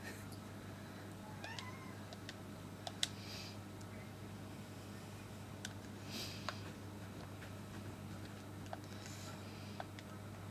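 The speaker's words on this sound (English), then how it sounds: "She doesn't fully meow, she squeaks." A pet cat lets out a couple of short, squeaky half-meows, faint and brief against a steady low indoor hum, with a few light ticks around them.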